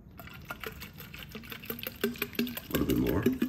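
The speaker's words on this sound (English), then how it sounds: "I'm gonna go ahead and finish pouring it up" Water poured into a Sodastream E-Terra bottle, a close splashing trickle that grows fuller and louder toward the end as the bottle fills.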